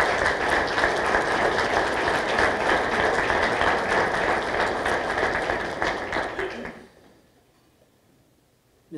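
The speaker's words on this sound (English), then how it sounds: "Let's give all of our supporters and sponsors a round of applause" Dense, steady applause from an audience at a police department retirement celebration honoring supporters and sponsors, filling the room for nearly seven seconds before cutting off abruptly into near silence.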